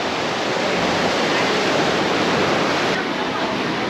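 Surf rolling onto a beach in Bali, heard as a loud, steady, wide rush of breaking water with no clear gaps between waves.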